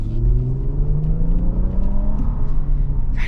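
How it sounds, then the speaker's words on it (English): A 2026 Nissan Armada or Infiniti QX80 SUV, built on the heavy-duty Patrol platform, accelerates steadily with a loud, rising engine whir and rumble from inside the cabin, climbing smoothly in pitch. "the engine sounds pretty good when you get into it"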